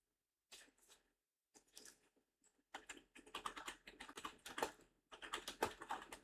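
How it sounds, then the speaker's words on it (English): Fingers tap quickly on a computer keyboard in uneven bursts of close, crisp clicks, with short pauses between runs of typing. "Because I'm typing."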